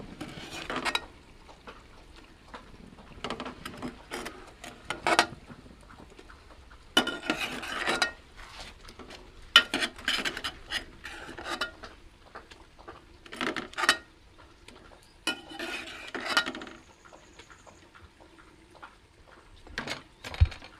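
Fried eggs being stirred into masala in a pan for egg dum biryani: scattered scraping and clinking of a spoon against metal, in short irregular bursts with quiet gaps, close and moderately loud, no talk.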